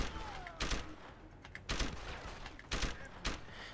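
SMG bursts in the Deus Ex Human Revolution shooter, several loud short volleys spaced about a second apart over a steady game background, no talk.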